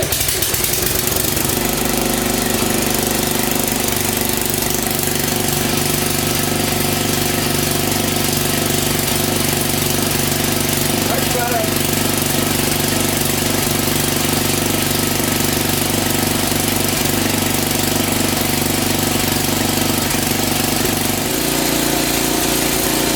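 A Briggs 190cc OHV engine on a worn MasterCraft Lawn Chief tiller runs loud and steady nearby, a rough knocking drone that holds for the whole stretch with a slight shift in pitch near the end.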